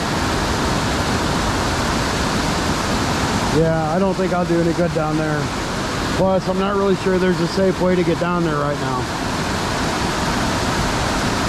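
Floodwater from a swollen river rushes through an overflow beside a frozen lake in winter, a loud, steady broadband roar throughout, with someone talking over it for several seconds.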